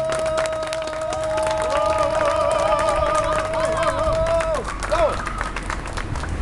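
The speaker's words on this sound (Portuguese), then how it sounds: "uma salva de palmas, por gentileza" Audience clapping for a poet at a book launch held at a poetry stand, a continuous crowd applause running under a sustained tonal sound, with a few voices and cheers mixed in.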